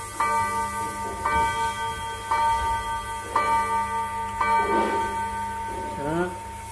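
A mechanical clock strikes its chime: about six evenly spaced, ringing bell tones, each left to decay into the next, close and clear, ending with some brief handling noise.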